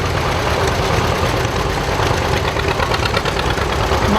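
Vintage John Deere Model D tractor engine running steadily at close range, a continuous loud low chugging rumble with knocking vibration and no pauses or talk.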